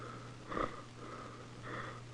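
A patient's breathing, quiet and close, with two soft sniffing, slightly wheezy breaths about a second apart over a low steady hum.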